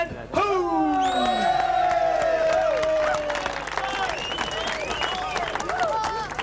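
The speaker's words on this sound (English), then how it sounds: "Thank you for the applause." A festival crowd at a 1985 Verdi Club beer fest breaks into loud, sustained applause mixed with cheering, whoops and whistles that carry on steadily to the end.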